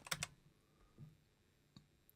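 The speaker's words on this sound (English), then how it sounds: "Now we're going to type in skin." A short burst of quick keystrokes on a computer keyboard, then a few scattered soft clicks, close and quiet with no voices.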